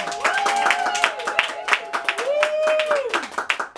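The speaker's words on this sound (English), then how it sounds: "Give yourselves a round of applause." An audience at a summer-season book launch claps in a steady patter throughout, mixed with a crowd's cheers and overlapping voices that rise and fall around it.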